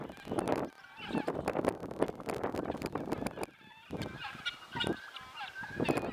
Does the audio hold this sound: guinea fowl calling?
yes